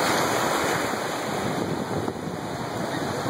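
Ocean surf breaks and washes along a beach in a steady broadband roar, close and loud, with wind buffeting the microphone throughout and no voices.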